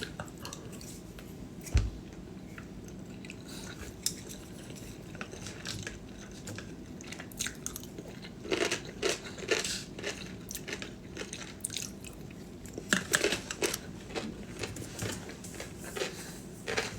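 A person bites and chews food close up, with crisp crunchy bites and wet chewing in irregular bursts, louder clusters appearing midway and near the end, with no talking.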